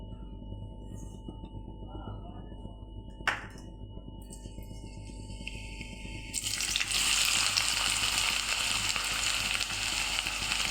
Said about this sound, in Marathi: आता आपण सर्वात आधी कांदा टाकणार आहे कापलेला कांदा